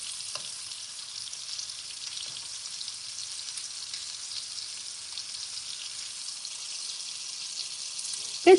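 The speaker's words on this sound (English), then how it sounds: "We are cooking fish today." Skin-on fish frying in a pan gives a steady, soft, hissing sizzle with faint crackles and scattered pops, fairly quiet and continuous, ending with a brief sharper clatter.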